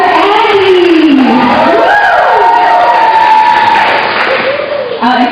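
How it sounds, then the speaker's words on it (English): A church congregation claps and cheers for peace builders, a loud sustained wash of applause and whoops with a voice calling out over the crowd throughout. "Let's give clap offering for the Lord for our peace builders."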